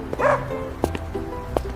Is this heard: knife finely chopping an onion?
no